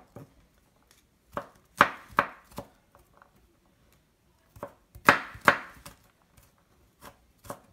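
A knife finely chops garlic on a board, quick clusters of crisp, close taps separated by quiet pauses, heard alone without any talking.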